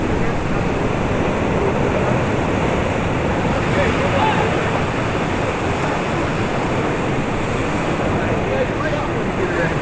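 Sets of ocean waves surge into a sharp volcanic rock sea cave, making a continuous loud, dense roar of churning water and rushing wind without pause.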